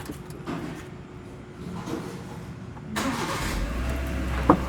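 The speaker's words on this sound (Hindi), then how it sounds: "तो फाइनली भाई गाड़ी चालू हो गई है।" A car engine cranks and catches, settling into a steady low idle rumble with a brief sharp click near the end, heard at close range with no talking.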